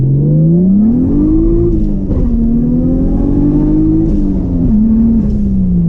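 A 1JZ-swapped Nissan 240SX accelerating hard, its engine loud and close and climbing in pitch, easing briefly around a shift and then pulling on again, with no voices.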